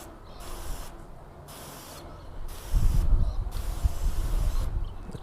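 Water spray rinses a sealant-coated car panel, a broad hiss with a heavier low rush swelling in partway through, close and steady with no talking.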